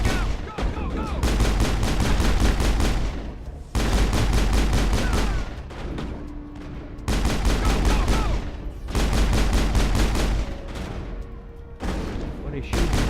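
Rapid bursts of automatic gunfire from the Mass Effect video game in loud, dense volleys broken by brief pauses, with in-game combat shouts mixed in.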